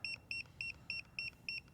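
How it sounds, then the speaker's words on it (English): A GUTA GT20 TPMS tire-pressure monitor gives six short, evenly spaced electronic beeps in quick succession, each a bright two-tone chirp, close and clear over low background hum. "I'm going to hit code, wait for it to beep at me"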